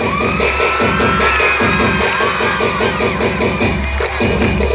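Audience at a school event clapping and cheering continuously, a dense crowd roar with shouting voices and steady applause, loud and close throughout.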